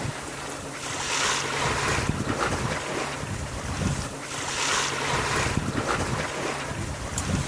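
Wind gusts in waves across a sailboat at sea, with roaring microphone buffeting and rushing water beneath, swelling and easing every couple of seconds, loud and close with no voices.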